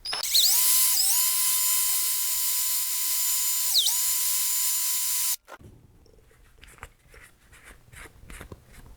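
A rotary tool buffs yellowed VIC-20 double-shot plastic keys with polishing compound, giving a steady high-pitched whine that dips briefly twice. It cuts off after about five seconds, leaving faint handling rustle.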